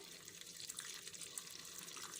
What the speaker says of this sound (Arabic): انا دلوقتي بصب الميه اهو في الصينيه